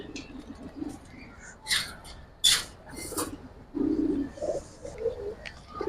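Pigeons in a collection of Giribaz and coloured breeds give low, soft coos near at hand, separated by a few sharper bird calls and handling noises.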